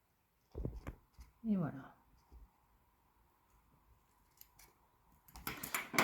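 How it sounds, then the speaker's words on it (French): Scissors cutting a plastic book cover, with a few close, crisp snips and crinkles separated by quiet pauses, followed by a brief spoken phrase near the end. "Je coupe l'autre côté à l'autre endroit."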